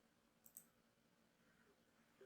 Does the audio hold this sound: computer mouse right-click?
yes